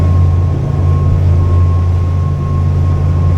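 A loud, steady low engine drone hums throughout with a constant tonal whine, the heavy vibration of a Barbaros 33 lobster boat pushing through short choppy waves at 9 knots.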